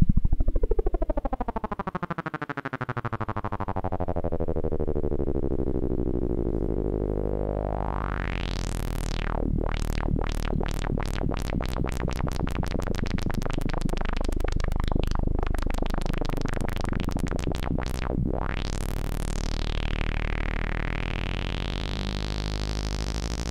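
A squelchy filtered PWM synth patch built in Serum, with an LFO sweeping the filter, plays as a steady sustained tone whose resonant harmonics rise and fall repeatedly, with rapid wobbling sweeps in the middle and one last upward sweep.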